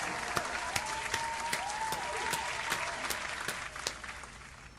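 A small group claps for an online game raid team after finishing a City of Heroes trial, a steady patter of sharp claps under a faint, continuous background hum.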